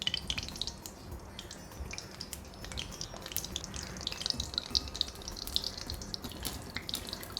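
Gulab jamun balls frying in hot oil for Diwali sweets, a dense steady bubbling crackle with fine popping and spatter, close and continuous, with no one speaking.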